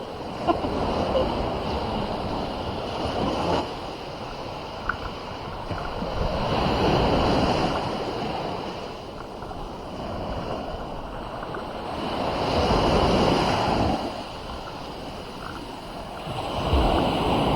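Sea waves wash onto the shore in slow surges at San Miguel, San Antonio, Zambales, Philippines, swelling and receding with wind buffeting the microphone.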